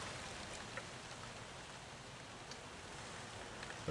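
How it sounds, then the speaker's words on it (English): Rain falls outside in a steady, soft patter with occasional louder drops ticking on a surface nearby, continuous and fairly quiet. "Of course, it's raining"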